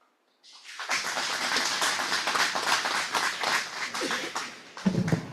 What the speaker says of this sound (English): If I could get one more round of applause for all these 3 great recipients for this year.